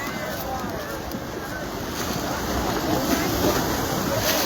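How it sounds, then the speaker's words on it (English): Ocean waves rolling in at Waikiki beach, a steady wash of surf with wind noise on the microphone, growing a little louder toward the end, heard from the shore with faint voices around. "watching the waves come in like that"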